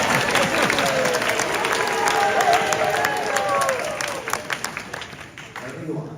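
Audience at a play applauding and cheering, a loud crowd of clapping with voices mixed in that swells, then thins out into scattered claps toward the end.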